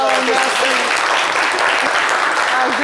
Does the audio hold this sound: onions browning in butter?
no